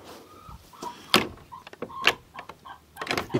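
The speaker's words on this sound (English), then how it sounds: "This chicken door does not want to close" Homemade wooden chicken coop door being pushed and knocked closed, giving a series of sharp bangs and scrapes at irregular intervals, with a chicken clucking softly close by between the knocks.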